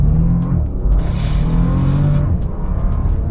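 A Bentley Flying Spur all-wheel-drive sedan in sport mode accelerates hard from a standstill, its engine roaring loudly and rising in pitch, with a brief tire squeal and a shift partway through.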